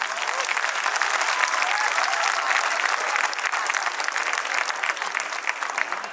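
A large crowd of parents claps steadily and loudly throughout a school annual day for pre-primary classes, a dense continuous wash of applause with no break.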